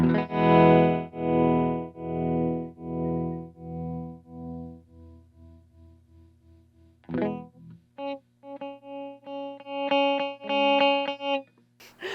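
Electric guitar through a Moonpool phaser tremolo pedal: sustained chords pulse in a steady tremolo that slowly fades, followed by sparser plucked notes and strums, moderately quiet and with no talking.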